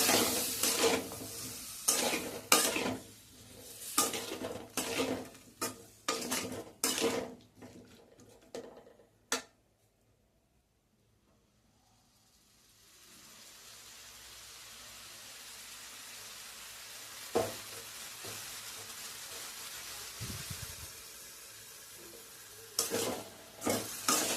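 Spices fry in a pan as a utensil stirs them in quick scraping, tapping bursts, then a pause gives way to a steady sizzle before more stirring resumes near the end.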